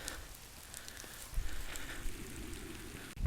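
Steady rain falls at Wekiwa Springs State Park in Florida, a continuous close hiss of drops hitting surfaces that grows a little heavier partway through, with no talking.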